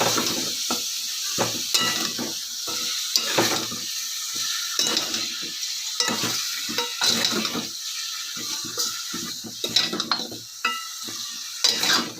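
Salt being stirred into mutton curry in a pot, with repeated scraping stir strokes over a steady sizzle of frying, close and fairly loud with no talking.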